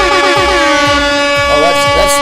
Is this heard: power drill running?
no